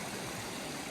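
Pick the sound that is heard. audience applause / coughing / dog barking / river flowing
river flowing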